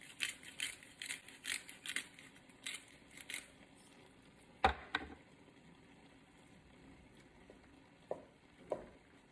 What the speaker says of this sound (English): I'm going to do some fresh cracked black pepper.